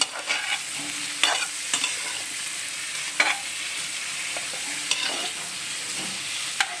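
Chopped mushrooms fry on a low flame with a gentle, continuous sizzle. A spoon scrapes and taps against the pan every second or so, and no one speaks.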